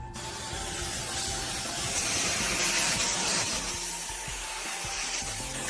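A continuous, fairly loud hiss of high-pressure steam from a portable steam cleaner runs steadily for several seconds with a faint mechanical rumble underneath.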